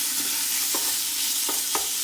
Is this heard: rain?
no